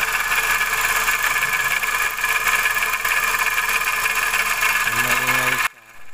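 A car engine idles steadily with a whining, rattly mechanical noise from a faulty bearing running through it, fairly close, before cutting off abruptly near the end.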